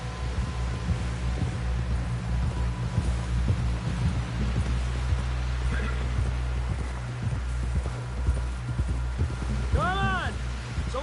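Horse hooves pound in a rapid gallop in Red Dead Redemption 2, thudding close over a low rumble, with a horse whinny near the end.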